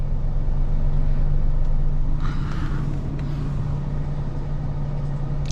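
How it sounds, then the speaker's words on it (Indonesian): A driving-school practice car with a manual gearbox idles nearby, a steady low engine hum and rumble running throughout with a brief rise of road noise midway. "Oke, ini mobil latihan mengemudi."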